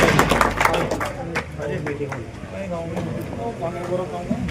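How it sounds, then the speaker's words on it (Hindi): Crowd clapping at a village development-works inauguration led by a block chief, scattered claps that start loud then thin out beneath people talking. "ताली बजा दो।"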